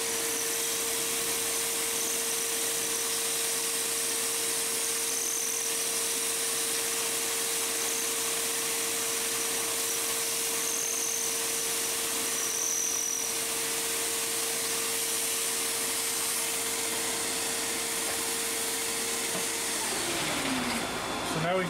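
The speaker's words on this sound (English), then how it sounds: "Forgive the vacuum cleaner, because I got to get the chips out of there." A shop vacuum sucks metal chips out of a hydraulic press die in a machine shop. It holds a steady, loud droning whine, then winds down in pitch near the end.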